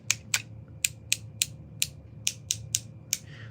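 The ratchet joints of a posable toy figure's arms click as they are moved: about a dozen sharp, close, evenly spaced clicks over a faint steady hum.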